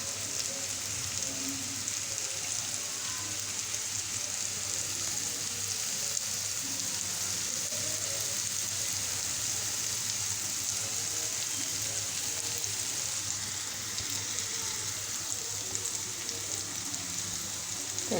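Bitter gourd (karela) slices fry in oil in a pan, giving a steady, even sizzle and crackle like light rain that holds unbroken at moderate volume with no talking.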